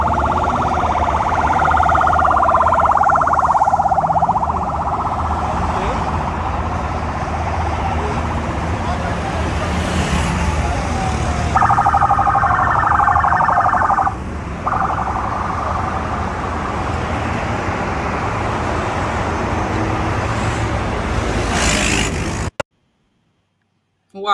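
A convoy of vehicles passes with sirens wailing continuously over a steady roar of traffic and engines, loud and close throughout before cutting off abruptly near the end.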